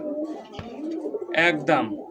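Desi pigeons cooing at close range, soft throaty coos building to two louder, bubbly calls toward the end, with a brief knock between.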